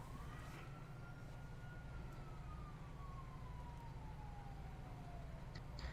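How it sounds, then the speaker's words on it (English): A police siren in the GTA 5 video game, a single rising and slowly falling wail sounding distant and faint over a constant low engine or traffic rumble. "I can hear sirens in the background right now"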